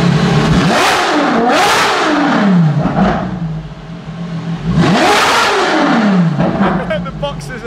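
A Ferrari LaFerrari with a straight-pipe exhaust revs hard inside a garage, loud rising and falling blips that rise to a sharp scream and drop back to idle, repeated several times with a pause between bursts.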